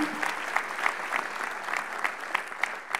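Applause from a church audience, thanking those who gave offerings and tithes, steady dense clapping throughout at moderate level with faint crowd murmur.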